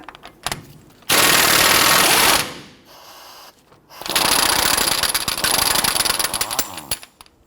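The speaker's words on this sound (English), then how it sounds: "Using a 32mm socket, loosen and remove the axle nut." Air impact wrench with a 32mm socket loosening the front axle nut on a 2005–2021 Nissan Frontier, two loud sustained rattling bursts separated by a short pause, close and harsh.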